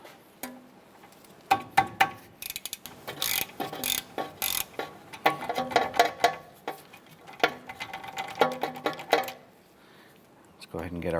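A hand ratchet loosening two 10mm ABS sensor bolts at the rear wheel hub of a 2008-2012 Honda Accord, close-up bursts of quick clicking strokes with short pauses between them.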